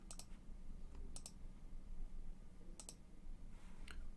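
Mouse clicks on a computer while setting up an automatic train route, in four quick double-click bursts spaced across the stretch, crisp and close over a steady low hum.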